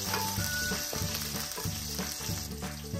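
Whole spices frying in hot oil for a chicken curry, a steady dense sizzle with soft crackles and a faint repeating stir or scrape rhythm, close and continuous.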